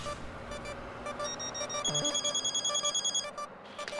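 A telephone ringing as a call is placed, an electronic ringtone with repeating trilling bursts, fairly faint and steady over a quiet indoor background, with no talking.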